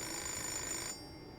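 A phone rings in the video game Fahrenheit: Indigo Prophecy, a steady electronic ring that cuts off partway through, leaving quiet.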